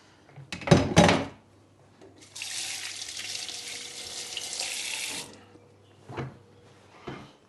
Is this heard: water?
yes